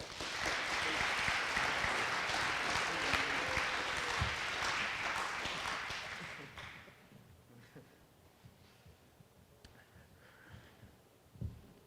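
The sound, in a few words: banquet audience applause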